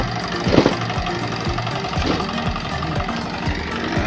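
Large plowing machine working a farm field, a loud close engine chugging in a steady rapid knock with rhythmic mechanical thumps and vibration, no talking.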